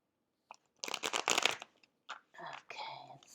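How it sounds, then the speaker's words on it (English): A deck of playing cards being shuffled up close, with quick riffling bursts and a few softer shuffles and taps that follow. "One more shuffle."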